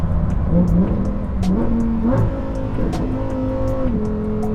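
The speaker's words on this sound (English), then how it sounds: "the ferocity of the gear shifts from this 7-speed gearbox" A Lamborghini Huracan STO prototype's engine revs hard under acceleration, its pitch climbing and then dropping sharply at each quick shift of its 7-speed gearbox, loud and close.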